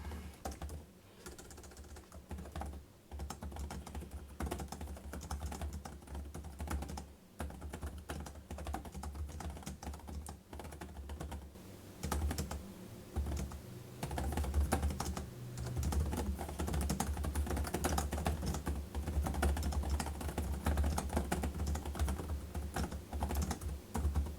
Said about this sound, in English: let's do a quick typing test here and we'll just kind of see how it sounds